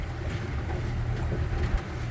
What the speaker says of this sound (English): here we are on the Halifax River, and we're idling